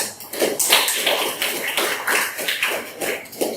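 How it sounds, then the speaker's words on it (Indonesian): A classroom group applauds a presenting group in a rapid, dense patter of hand claps that continues steadily, fairly close, with no talking over it. "Beri aplaus dulu kepada kelompok 1."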